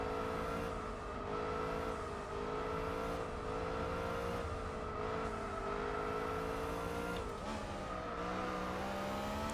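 A race car engine in Gran Turismo 4, a steady whining drone with pitch that shifts up and dips through gear changes, including a sharp blip around a downshift near the end, moderately quiet throughout.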